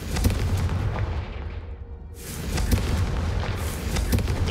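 A Confringo fire spell bursts in Hogwarts Legacy, a loud booming blast with crackling, rumbling tail, followed by a second surge of roaring fire about midway through.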